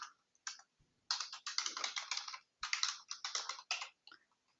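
Someone types an institution address on a computer keyboard, quick close keystrokes in bursts separated by brief pauses, quiet and alone.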